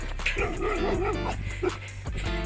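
Dogs at a fell race in the Forest of Bowland give yips and whimpering barks amid outdoor crowd noise, with a person talking nearby.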